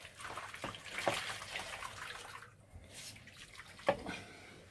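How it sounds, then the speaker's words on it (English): Hands are washed under running water at a kitchen sink while breading Scotch eggs, with a steady close splash and trickle and a few sharper drips and knocks, and no talk. "wash your hands"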